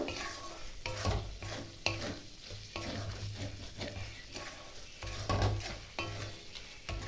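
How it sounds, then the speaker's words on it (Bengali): Masala sautés on a low flame for chicken bhuna, a soft close sizzle with repeated spatula scrapes and stirring knocks against the pan in an uneven rhythm. "এটা আরও আমি এক থেকে দু মিনিট ভালো করে কষিয়ে নেব"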